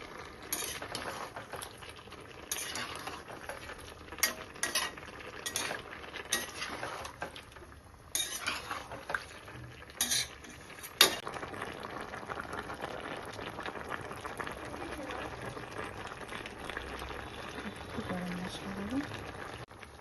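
Mixed vegetables are tipped into chicken curry and stirred in a pan, with bubbling simmering, scraping and metallic clinks of a spoon against the pot, moderately close and steady.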